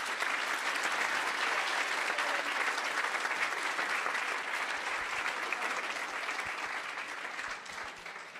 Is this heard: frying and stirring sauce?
no